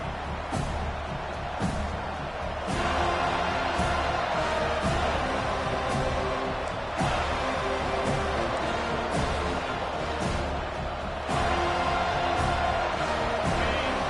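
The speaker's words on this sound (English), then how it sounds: "This crowd trying to make life miserable for this offense." A football stadium crowd roars continuously against the visiting offense, a loud sustained wash of cheering with sharp bursts and thuds. A commentator's voice sits faintly under the noise.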